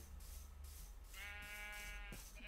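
Sheep bleats in Minecraft: one drawn-out, wavering bleat rises over a steady low background hum, followed by a short fainter call near the end.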